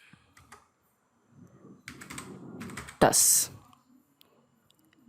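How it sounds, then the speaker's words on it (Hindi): Scattered clicks from typing on a computer keyboard, with light keystrokes in short bursts and someone speaking over and between them, then a brief louder rustle. "और यहाँ पर टाइप कर देते हैं स्टूडेंट स्टेटस"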